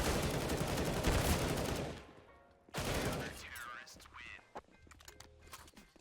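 Galil rifle fire and a high-explosive grenade in a Counter-Strike match on Nuke, a dense loud volley of gunshots followed by a short gap, another burst, then scattered game effects and faint talk.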